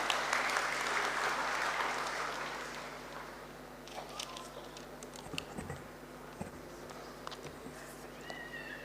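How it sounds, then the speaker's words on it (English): A convocation crowd claps for an honoured guest, a guest of honour welcomed with applause that is full and steady at first, then fades after about three seconds into scattered sharp taps and hall noise. "with a round of applause"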